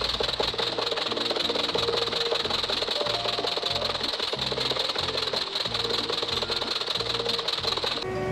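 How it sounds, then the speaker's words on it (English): A cartoon jeep engine drones continuously in a steady, rhythmic chugging loop under music-like tones, loud and unbroken throughout with no talk. "The Jeep is gonna catch me, Vaco."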